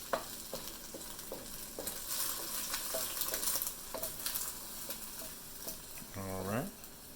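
Eggs frying in a very hot wok for Japanese fried rice give a steady loud sizzle with scattered spatula scrapes and stirring clatter, and a brief whistling ring sounds near the end.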